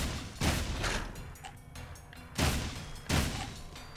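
Gunfire in the Jak 2 video game: a few loud, booming shots spaced apart, each a broad burst over a steady game background, with no talking during the shots.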